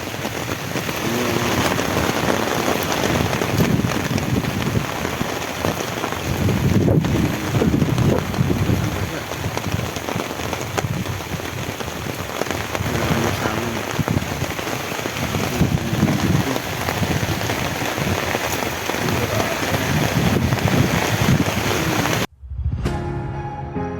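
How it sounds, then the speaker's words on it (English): Heavy rain pours steadily through the night at a beach campsite on Cagbalete Island, a dense continuous hiss with gusts of wind, loud and unbroken until it cuts off abruptly near the end. "Grabe ang lakas ng ulan dito."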